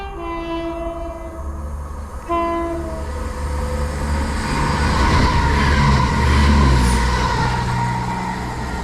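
A Transport for Wales Class 170 diesel unit passes through a station, opening with two loud horn blasts followed by a rising engine roar and rumbling wheels as it approaches close by.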